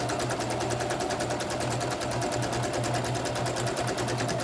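A sewing machine chain-pieces patchwork pillowcase squares, running loud and steady from start to finish with a fast, even stitching rhythm and a low motor hum, and no voices.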